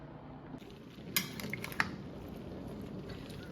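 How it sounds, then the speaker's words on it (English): Vegetables for canned tomato juice are stirred down in a pot, heard as quiet squishing with a few light clinks of the utensil against the pot, close and faint. "So I'm trying to stir these veggies down a little bit"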